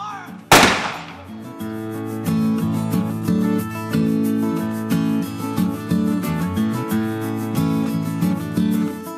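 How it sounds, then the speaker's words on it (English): A cannon on the upper gun platform of Fort Mackinac fires one sharp, loud blast, followed by sustained musical tones that carry on afterward. "part of their visit is to be welcomed by a big cannon blast up on the upper gun platform"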